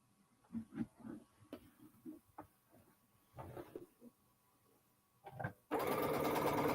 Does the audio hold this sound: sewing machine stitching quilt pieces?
yes